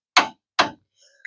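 A torque wrench clicking as it reaches its set torque, giving two sharp, close clicks about half a second apart followed by faint metallic ringing.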